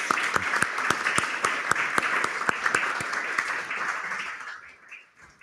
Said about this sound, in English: but a round of applause for our panel.